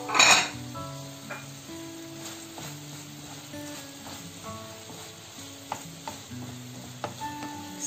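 Chicken fry coated in sauce is stirred and mixed in a pan, with scraping utensil strokes, occasional metallic clinks and a gentle sizzle, over soft background music.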